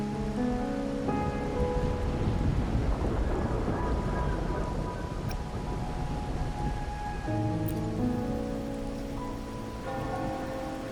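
Steady rain patters in the video game Wuthering Waves, a soft continuous wash with a low thunder rumble, under layered sustained music tones, no talking.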